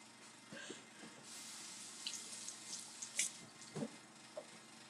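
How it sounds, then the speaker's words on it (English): A kitchen sink tap runs steadily while hands are washed under it, a close hiss of water with light splashes and small clunks over the stream. "let me wash my hands"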